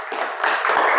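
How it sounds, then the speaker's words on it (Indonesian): Students in a classroom clap for a classmate after a lesson reflection, a brief burst of dense, overlapping hand claps that swells slightly toward the end, with no talk over it. "Tepuk tangan dulu buat Vivi ya."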